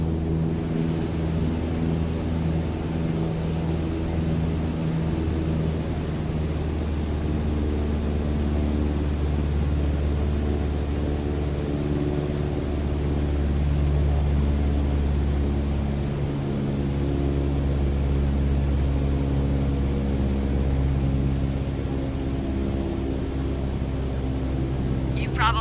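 Propeller airplane engine in Microsoft Flight Simulator 2020 droning steadily at reduced throttle, around 1,800 RPM, a constant low hum throughout, with a voice talking over it.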